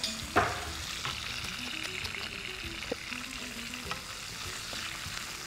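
Fennel, curry leaves and onion sautéed in a pan, a continuous soft sizzle broken by occasional stirring scrapes and light clicks, with faint music in the background.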